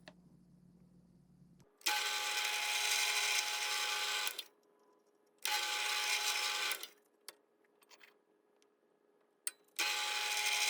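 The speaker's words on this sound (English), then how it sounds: "so I knew where to drill the holes." A power drill boring holes into a wooden pinewood derby car body, with several loud sustained bursts of whirring separated by quiet pauses and short clicks.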